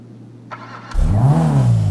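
A BF Vifta buggy engine starts and settles into a steady, low-pitched running drone after a short mechanical clunk, loud and close with no talk over it.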